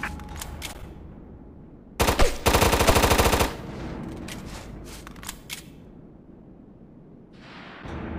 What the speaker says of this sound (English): Tap the X button to fire from the window.